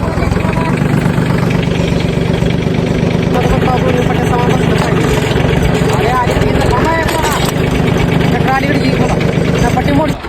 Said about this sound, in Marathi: ट्रॅक्टर काढलाय आता अडकल्याला